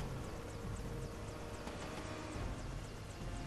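Helicopter from the video game Prototype: a steady, loud rotor and engine drone with a rhythmic blade chop that stays close and constant, with no talking.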